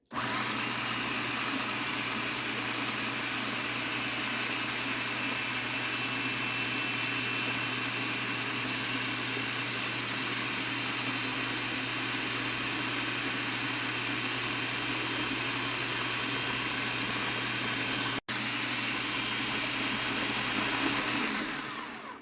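A blender blends homemade basil pesto sauce with a steady, loud motor whir that runs unbroken for over twenty seconds, with one brief dropout near the end before it winds down.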